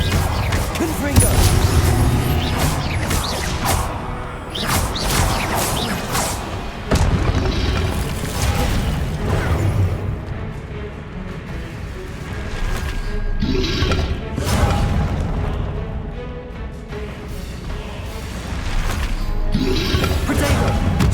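Confringo blasting spells in Hogwarts Legacy, loud booming explosions and crashes repeating through combat with mechanical clatter around them.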